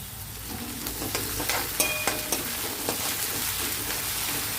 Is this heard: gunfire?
no